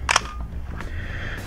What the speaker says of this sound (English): when you take a picture with this camera